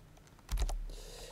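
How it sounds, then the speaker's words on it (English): Keystrokes on a computer keyboard while entering text into image-editing software, a short close burst of several quick clicks with a faint lingering hum after. "And then I'm just going to type in actually something very exciting"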